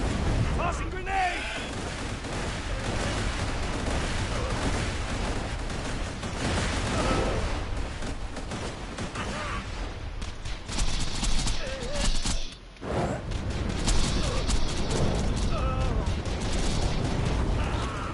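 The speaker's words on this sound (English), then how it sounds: "Tossing grenade!" Thrown grenade detonating amid dense gunfire in the video game Borderlands 2, with rapid bursts of shots and heavy blasts filling the mix almost continuously, and a brief lull before the firing resumes.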